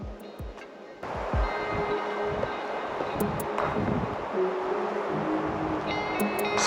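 Loud, steady rushing of wind through a pine forest on a volcanic hiking trail in Tenerife, swelling like distant surf, with a few faint knocks and thumps early on and no talk.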